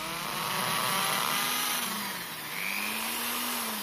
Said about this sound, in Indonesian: saya udah nyiapin dua buah mata bor nomor 8 yang akan saya coba untuk memasang visornya